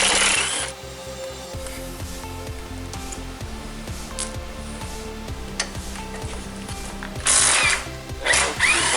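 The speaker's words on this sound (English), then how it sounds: "So all together you need to remove 8 bolts." A ratchet working on the bolts of a VW MK5 front end during disassembly, with repeated close, clicking mechanical strokes, rhythmic bursts of turning and pawl clicks, and a few brighter metallic clanks near the end.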